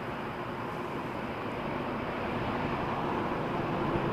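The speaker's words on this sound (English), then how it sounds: "7879 Dreamliner. Beautiful heavy departure from Toronto Pearson." A Boeing 787-9 Dreamliner jet departing Toronto Pearson airport at night, a steady broad engine roar heard from a distance, swelling slightly, with no talk.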